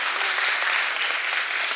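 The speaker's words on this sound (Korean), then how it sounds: "박수 한번 주세요." An audience claps together at a lecture on crime psychology, a dense, loud, continuous round of applause from a room full of people, with no voices over it.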